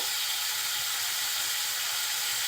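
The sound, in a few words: small potatoes added to hot pan, sizzling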